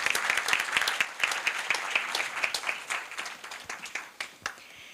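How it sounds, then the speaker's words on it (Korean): An audience at a Korea University business school pitch event applauds, heard as a burst of sharp, scattered hand claps from a moderate-sized crowd that thins and fades toward the end, with no talking. "다시 한번 큰 박수 부탁드립니다"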